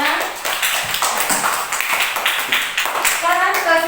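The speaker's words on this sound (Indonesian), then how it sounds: "Tepuk tangan dulu untuk kelompok kita semua." A class of children claps together in a classroom, a quick burst of hand claps filling the room before a teacher's voice takes over near the end.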